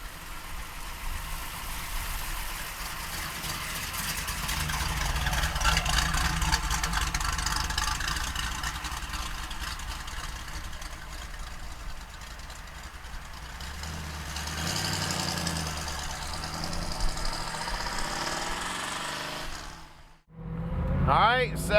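A 1970 Chevrolet Camaro with a 350 V8 runs steadily with a loud, broadband engine rumble for about twenty seconds, swelling midway, then cutting sharply near the end before resuming.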